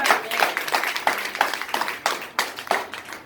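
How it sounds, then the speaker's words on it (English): Scattered hand clapping from a youth church service audience, a few uneven claps in loose rhythm rather than a full ovation, moderately close and fairly quiet. "Give yourselves a round of applause."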